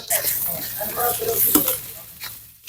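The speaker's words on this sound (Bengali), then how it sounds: "আমি একটু ভেজে নিব আলুটাকে সুন্দর করে এই মশলার মধ্যে" Boiled, mashed potato is fried in oil with ground coriander and garam masala spices, giving a steady close sizzle broken by scraping stir strokes, with a brief louder rustle near the end.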